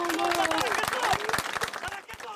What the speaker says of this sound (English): a spontaneous moment of applause.